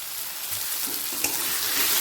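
Onion frying in a pan with green chili paste and ginger-garlic paste while cooking egg curry, a steady close sizzle with a faint stir in the middle.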